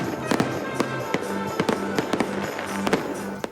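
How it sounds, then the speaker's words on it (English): Fireworks burst over frozen Lake Mendota during the Wisconsin Union's Winter Carnival, a string of sharp cracks and pops at irregular intervals, loud and fairly near, with a crackling wash between bursts. "fireworks lit up the sky over a frozen Lake Mendota"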